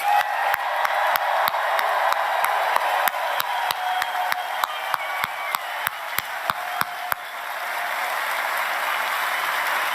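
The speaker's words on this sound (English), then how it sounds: "let's give them a roaring sound of applause" A rally crowd at a political event in Lewis Center, Ohio applauds veterans with a loud, sustained roar of clapping and cheering, while a sharp regular ticking runs through it before the applause thins out toward the end.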